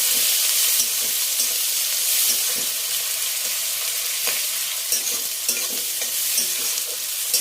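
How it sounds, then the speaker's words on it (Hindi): Onions frying in a pan with garlic for an Odia vegetable curry, a loud, dense, steady sizzle with scattered crackles and stirring scrapes, close up and uninterrupted by any voice. "पियाजटा को गोल्डन ब्राउन होला जाए फ्राए करबा"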